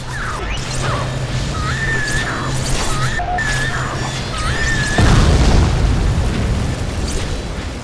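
Enemies exploding in BloodRayne 2 in a sewer level: a dense, continuous roar of blasts and crashes that swells into a louder, broadband burst partway through, set against a droning game soundscape with whistling tones.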